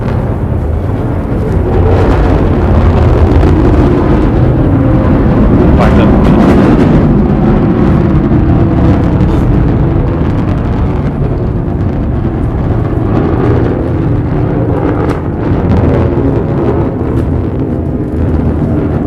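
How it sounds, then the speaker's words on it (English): Deep, sustained roar of the BE-3 engine on a Blue Origin New Shepard rocket during its first crewed launch, a heavy rumbling crackle that fills the whole stretch, loud and continuous, with voices faintly underneath. "listen to the roar of the BE-3 engine"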